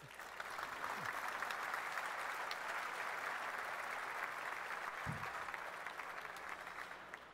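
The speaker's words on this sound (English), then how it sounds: "now, I think they deserve a round of applause already" Sustained applause from an audience at a chef's cooking demonstration, a steady wash of clapping heard at a distance and fairly faint, holding evenly for several seconds.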